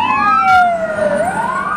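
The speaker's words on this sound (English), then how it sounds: "We got the fire trucks." A short burst of fire engine siren wailing nearby on a Denver street by the Coliseum, its loud rising and falling tones layered over a steady vehicle rumble.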